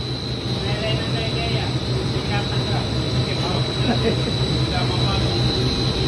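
A steady hose extrusion machine drones and hums continuously in a factory, with a high whine on top and clattering mechanical texture underneath; no one is heard talking.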